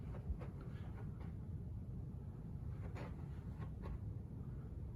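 A model manifest train, number 257 out of Houston, runs along a layout railroad. It makes a steady low rumble with a few faint clicks and rattles, close and continuous.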